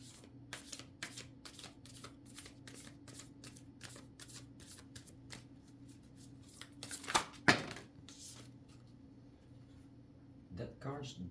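Tarot cards being shuffled by hand, a steady run of quick riffling flicks, close and fairly quiet, with a louder burst of handling partway through and a low constant hum underneath.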